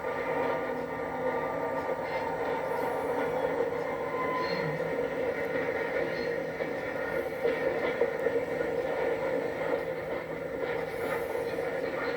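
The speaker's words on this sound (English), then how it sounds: "Nearby, a train runs on Miami's electrified rapid transit system, the Metro" A Miami Metrorail electrified rapid transit train rumbles past steadily, a continuous roar of wheels on rails with faint metallic squeals, no talking.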